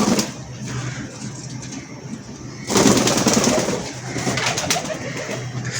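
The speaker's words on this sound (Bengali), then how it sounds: "এখন কবুতরটাকে ছাড়ি দেখি ও কে কম মানে ফ্রেন্ডলি হয় নাকি হয় না।" A pigeon coos nearby, its low throaty calls repeating through the stretch over a soft background hum, with a louder burst of rustling and bird noise partway through.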